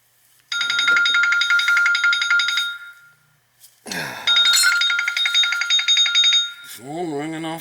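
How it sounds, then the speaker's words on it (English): A telephone rings in two long electronic trilling bursts with a short gap between them, then a voice speaks briefly at the end. "Phone ringing off the hook"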